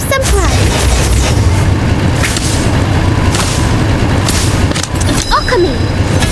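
Spell effects from Harry Potter: Magic Awakened, the Sectum Sempra spell cast, heard as a loud, dense boom-like rumble with whooshing bursts and sparkling chimes, a voice sounding over it.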